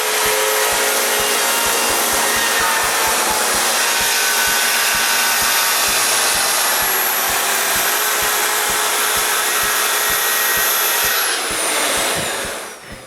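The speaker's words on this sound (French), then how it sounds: "je coupe une rive avec la scie sur rail." A track saw cuts along the edge of a wood board in a workshop, a loud steady high-pitched motor whine with a rhythmic low ticking beneath, running continuously before winding down at the end.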